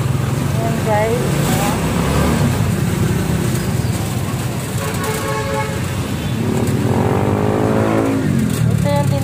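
Heavy congested road traffic of cars and motorcycles with horns tooting, a dense engine rumble under loud, close talk, with passing vehicles and horn blasts scattered through.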